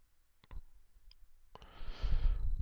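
Computer mouse buttons click sharply twice in a quiet room, with a faint rustle and a rising low rumble of desk or handling noise following.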